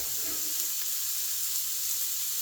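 Chopped onions sizzle in a wok while cooking chicken fried rice, a steady bright hiss of frying that stays even and close for the whole stretch, with no voices over it.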